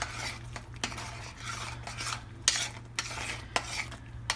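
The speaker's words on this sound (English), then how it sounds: "And then I give that a good stir." Thick sausage gravy is stirred in a pan with a spoon, giving soft, repeated scraping and clinking strokes over a low steady hum, quiet and close with no voices.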